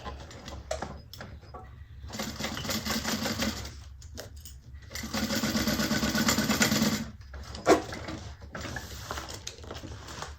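Sewing machine back stitching a handbag, running in bursts of rapid mechanical needle rattling separated by pauses, with a small clunk near the end, close and fairly loud.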